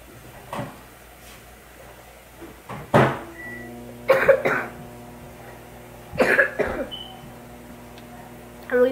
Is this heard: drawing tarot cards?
no